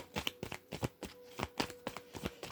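Tarot cards shuffled by hand in a rapid, uneven run of crisp riffling bursts, close and fairly quiet, with no talking.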